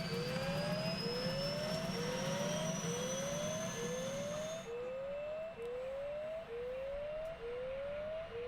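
Turbine start of an OH-58D Kiowa helicopter in a flight simulator game, a rising jet whine under a repeating warning beep that sweeps upward roughly every half second, steady and clear with no talking.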